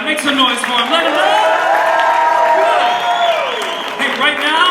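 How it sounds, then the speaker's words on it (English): A college comedy showcase crowd claps and cheers for the musicians, a steady wash of applause with whoops and yells, while a voice rises over the noise near the middle. "Make some noise for them. Let them know."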